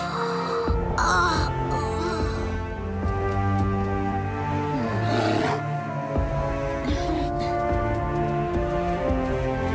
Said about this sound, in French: L'esprit du grand ours.